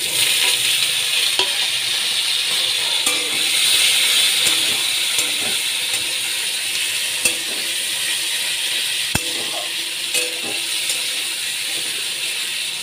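Onions and tomatoes sizzle in hot oil in a pan with bay leaf and cinnamon, a dense continuous frying crackle punctuated by occasional sharp clicks and stirring scrapes, close and loud without speech.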